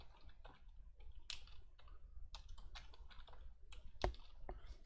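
Quiet, rapid clicking of a computer keyboard as a new user's name, email and password are entered, with irregular bursts of keystrokes and one slightly louder tap.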